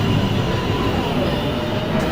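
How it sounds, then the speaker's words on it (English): A New York City subway train at Lincoln Center station, loud steady rumble of rail cars with wheel noise filling the platform, continuous and close. "downtown express 2 train approaching the station"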